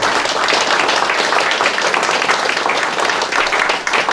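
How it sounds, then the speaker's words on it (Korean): An audience at a forum event in Busan applauds, a dense, steady wash of many hands clapping that holds loud and continuous throughout. "격려와 성원의 박수를 보내주시기"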